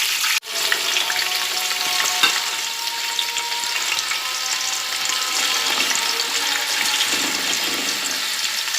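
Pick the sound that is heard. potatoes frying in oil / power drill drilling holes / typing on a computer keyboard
potatoes frying in oil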